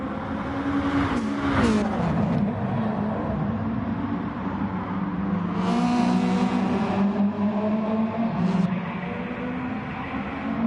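Subaru rally car engine in the WRXC racing video game, racing at night in Australia, a loud, sustained engine drone with shifting pitch and brief rasping surges as it revs and shifts.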